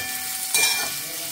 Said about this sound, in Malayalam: വെളുത്തുള്ളി 2 സവാള അതിട്ട് വഴറ്റാൻ ഇച്ചിരി